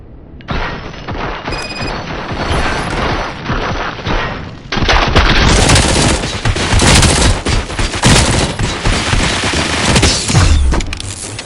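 Dense, continuous gunfire in the video game RoboCop: Rogue City, with rapid automatic bursts and heavy booming impacts that grow louder and more intense partway through, with no talking.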